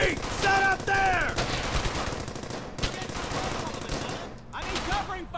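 Gunfire in Brothers In Arms: Hell's Highway, rapid bursts of machine-gun and rifle shots cracking close and loud across the whole stretch, with shouted voices in between the volleys.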